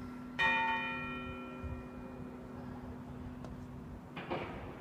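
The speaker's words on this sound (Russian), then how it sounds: "Слышите колокола?" A church bell in Gamla Stan, Stockholm's old town, strikes once with a long, ringing decay, then a second strike arrives near the end, moderately distant.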